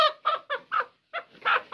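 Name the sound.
rooster clucking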